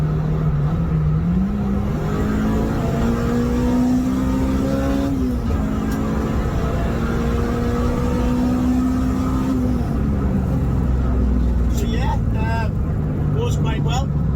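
A tuned, mapped 231 hp Honda Civic EP3 pulls hard in third gear on an open road, its engine note climbing steadily and loud inside the cabin, with a brief dip at a gear or throttle change.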